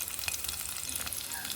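Spices tempering in hot oil for an Andhra-style moong dal and bottle gourd curry, with garlic, curry leaves and dried red chillies, crackle and splutter in a dense, steady sizzle close by.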